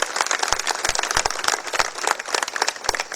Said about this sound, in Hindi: एक बार जोरदार ताली बाबा के लिए बजना